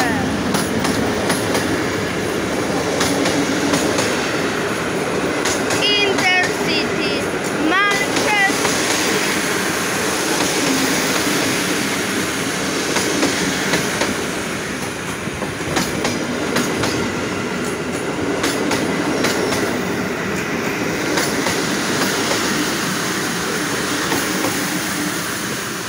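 A Polish Intercity passenger train hauled by an EU07 locomotive rolls into Kołobrzeg station with a continuous heavy rumble, rattling wheel clicks and brief high squeals from the wheels partway through.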